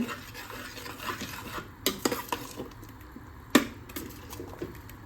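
Tomatoes and onions are sautéed in a pot for tomato rice, with soft stirring and a faint sizzle punctuated by a few sharp metallic clinks of a utensil against the pot.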